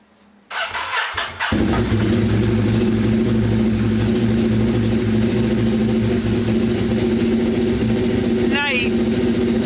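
A motorcycle engine catches after a brief starter crank and settles into a loud, close, rumbling idle with strong exhaust throb, holding steady with slight revving to the end.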